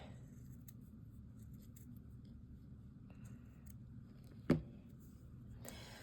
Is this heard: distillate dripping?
no